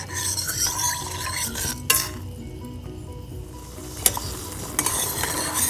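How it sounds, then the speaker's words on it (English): Jaggery being stirred in a pan as it melts, a soft scraping spoon with a gentle sizzle beneath and a couple of sharp clinks against the pan's rim, close and without talk. "Stir well till the jaggery is dissolved for 5 minutes."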